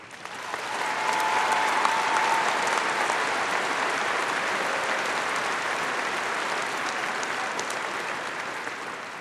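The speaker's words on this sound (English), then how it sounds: "So please join me once again in applause for our faculty." A commencement crowd gives faculty a steady, full round of applause at Boise State University's 2012 ceremony, swelling quickly and holding a broad, even wash of clapping throughout.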